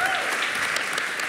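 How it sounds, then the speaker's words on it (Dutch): Brief, even applause from a studio audience at a talk event fills the moment, steady and moderately loud throughout. "Een hartelijk applaus."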